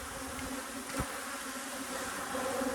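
Honey bees swarm around a hive entrance at a gap between boxes, producing a steady, dense buzzing drone that stays close and constant throughout, with a brief louder bump near the middle.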